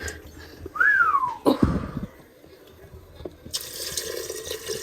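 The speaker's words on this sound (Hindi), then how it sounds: "देखो मैंने क्या सीटी लगा करके रख दिया कुकर को" A pressure cooker whistle rises in a short gliding tone while urad gosht cooks on a gas stove, followed by a hissing burst of steam, then quieter kitchen sounds and a louder hiss near the end.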